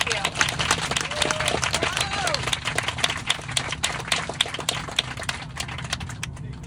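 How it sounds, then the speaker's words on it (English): Applause in an airport gate or cabin for the family of a retiring Southwest Airlines pilot on a final Boeing 737-8 Max flight, a dense continuous patter of many hands with scattered voices. "So let's give them a big round of applause and thank you."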